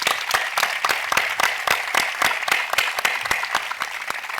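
An audience at a book event breaks into loud, sustained applause, with dense overlapping claps that hold steady throughout and no voices on top.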